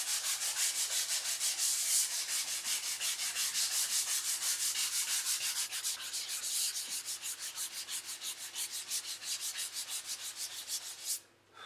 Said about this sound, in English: while it's got the dust in there from the sanding